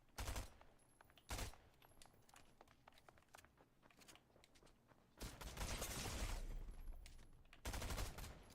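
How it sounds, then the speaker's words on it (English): Gunfire in the video game Fortnite, heard as bursts of rapid shots, one short volley early on, another a second later, then a longer sustained stretch of firing, loud against a quieter game background, with no talking. "No idea where they're shooting at me from."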